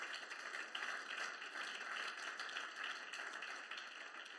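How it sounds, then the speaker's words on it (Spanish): Congregation clapping in a church service, a steady, dense patter of many hands sustained throughout at moderate distance, with no voices over it. "denle un fuerte aplauso al Señor"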